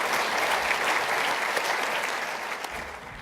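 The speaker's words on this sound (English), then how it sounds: "A round of applause, please," Audience applause at an ethnic business awards gala dinner, a steady dense wash of clapping from a large crowd that holds strong throughout and tapers slightly at the end.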